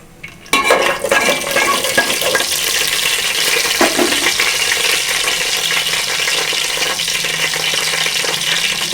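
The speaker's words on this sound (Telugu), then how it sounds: "జీలకర్ర వేసుకుంటున్నాను." Mustard seeds and cumin dropped into hot peanut oil burst into a loud, dense sizzle and crackle from about half a second on, steady and close, with a few pan and utensil clinks.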